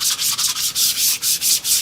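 Sandpaper is worked over Kydex in quick, regular strokes, a close, bright, hissing rasp that repeats about five times a second with no speech.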